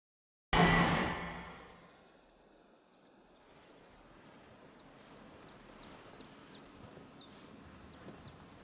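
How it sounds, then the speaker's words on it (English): Birds call from a migratory flyway in a series of short, high, repeated chirps that grow steadier and fill the second half. They follow a loud, broad burst that dies away at the start, and no one speaks. "More than 500 bird species drop in for a pit stop every spring and fall."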